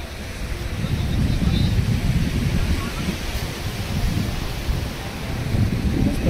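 Wind gusts across Kihim beach near Alibag, a broad roaring rush that swells and eases in waves against the microphone, with a muffled low surf-like rumble underneath.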